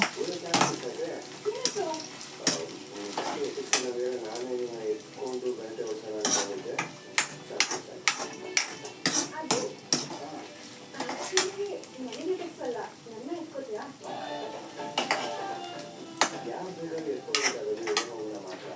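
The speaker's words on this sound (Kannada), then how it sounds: "ಈರುಳ್ಳಿ ಒಂಚೂರು ಗೋಲ್ಡನ್ ಕಲರ್ ಬರೋವರೆಗೂ ಹುರ್ಕೋಬೇಕು" Onions and potatoes fry in a pan while a utensil stirs and scrapes in repeated sharp clinks over a steady sizzle, with someone talking throughout.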